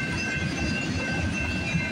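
A CP freight train led by the Vancouver Olympic unit locomotive rolls past, a steady rumbling roar of rail cars with wheel clatter and a faint high squeal, close and continuous throughout.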